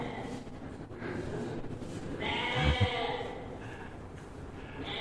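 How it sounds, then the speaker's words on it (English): A goat bleats once in a long, wavering call partway through, fairly faint, heard over a steady low rumble of background noise. "Your neighbors have a new goat? A new pet goat?"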